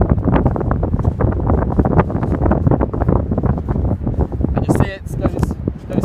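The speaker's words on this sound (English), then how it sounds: "So my kite's flapping. It's not catching the wind yet" Kitesurf kite flapping and rattling in strong wind before launch, a steady loud buffeting outdoors under heavy wind rush, with a person talking over it throughout.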